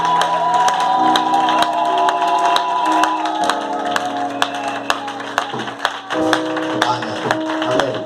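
A church congregation claps hands in praise, with steady overlapping claps and crowd cheering sustained over continuous music and singing throughout.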